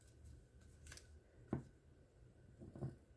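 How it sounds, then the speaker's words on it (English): Scissors snip a corner off paper scraps at close range, with a couple of crisp, quiet cutting clicks separated by brief pauses in an otherwise hushed room. "And then I just take my scissors, cut that corner off."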